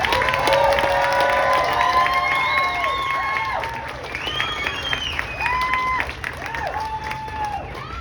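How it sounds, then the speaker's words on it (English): An audience at a medical freedom gathering breaks into a loud round of applause mixed with cheers and whoops, clapping dense at first then easing off while shouts continue. "give a round of applause for having some courage to come"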